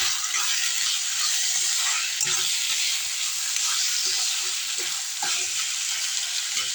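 Onion, tomato and ginger-garlic paste sizzle steadily in a pan for chicken thokku. The frying hiss is constant and close, with occasional soft scrapes of stirring and no talking.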